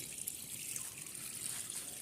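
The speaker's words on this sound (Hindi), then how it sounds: "ये जा रहा है पानी" Water drains and trickles steadily from a washing machine during a clothes wash, a faint continuous splashing hiss with no talking.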